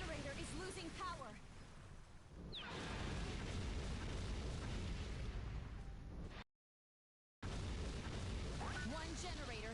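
A generator blowing up in a Godzilla game, a loud broadband explosion roaring over rumbling ambience, with a brief dropout to silence before the noise resumes with other effects.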